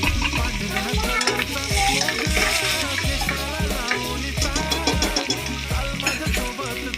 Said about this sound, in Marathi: तर मी कांदा टाकते, कांदा चांगलं परतून द्यायचंय।